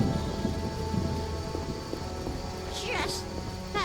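Steady rain pours with low thunder rumbling in a stormy scene from The Witcher, while voices speak over the weather.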